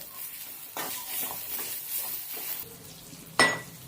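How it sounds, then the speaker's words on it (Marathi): Pea filling mixture for kachori sautés in a pan, a steady broadband sizzle with stirring scrapes and one sharp utensil clink near the end. "आपण हे केलेलं वाटाण्याचं मिश्रण आहे ते त्यामध्ये टाकून घेऊया। आपण हे परतून घेऊया।"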